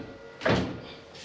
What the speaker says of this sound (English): you can open that other door and I'll close it